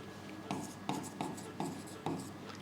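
Handwriting strokes scratching across a surface, about five evenly spaced, close scribbling bursts within a few seconds.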